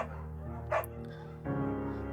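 A beagle barks in the video game Firewatch, a couple of short yips over a steady low background with no talk.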